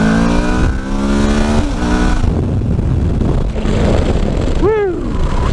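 A Kawasaki Versys 1000 motorcycle pulls away with a loud engine note rising through the gears, heard close and under heavy wind rush, with a brief whining chirp near the end.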